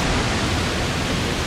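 Steady broadband roar of a waterfall at Cachoeira Escondida, a secluded natural falls near Valença, dense and continuous like constant rushing water, with no voices over it.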